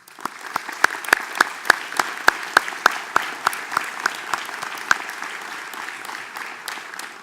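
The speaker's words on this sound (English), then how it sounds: "Let's give those special people a round of applause." Sustained applause from a university commencement audience, a dense wash of clapping with a few sharper individual claps standing out near the start, gradually thinning toward the end.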